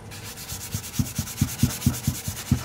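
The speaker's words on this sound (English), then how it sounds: "very very fine piece of emery cloth, and I'll rub this off" A very fine emery cloth rubs back and forth across a metal part for a micro brewery control panel, making about ten steady, close, gritty strokes in an even rhythm.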